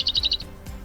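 Bird chirps played from a Bluetooth sleep-sound speaker meant for bedtime, a quick run of high tweets over the first half second, then quiet low hum, with no talking.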